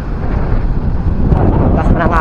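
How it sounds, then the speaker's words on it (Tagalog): Strong wind roars steadily across the microphone at a seaside breakwater by a boulevard, loud and close with rumbling gusts throughout. "Lakas ng hangin mga fishing."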